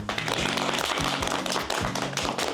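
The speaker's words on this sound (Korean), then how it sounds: "박수 치면서 끝내도록 하겠습니다" A small group of firefighters claps together to close a morning meeting at a fire station, with brisk, close, steady hand claps filling the short moment.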